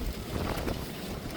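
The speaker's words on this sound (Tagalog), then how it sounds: "Malakas na hangin mga kapatid, may bagyo." Strong typhoon wind roars and buffets the microphone continuously, a loud gusty rush with no voices.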